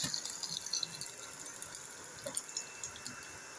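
A hot hoe blade quenched in oil gives off a faint, steady sizzle with scattered small crackles and pops. No one speaks over it.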